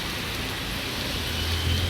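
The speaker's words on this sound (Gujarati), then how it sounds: "વરસાદ બહબહાટી બોલાવે છે" Heavy monsoon rain pours steadily near Shivri Mata hill, where two cars have broken down, making a dense, even hiss with a low rumble underneath. No voices are heard.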